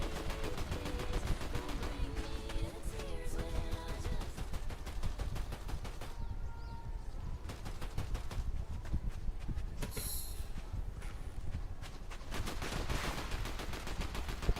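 Rapid video game gunfire from enemies keeps rattling in dense automatic bursts, loud and continuous with a few brief gaps and sharper shots, no talk over it.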